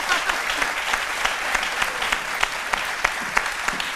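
Studio audience on an Ivorian midday television show claps steadily and fairly close, a dense patter of hand claps with a few sharper individual claps standing out, no voices over it.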